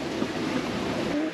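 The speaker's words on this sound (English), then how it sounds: "Lizard solutions for waves smashing in the cockpit." Ocean waves wash against and into the cockpit of a sailboat crossing the Pacific, a steady, close roar of rushing water and wind-blown spray that holds at a fairly even loudness with no voices.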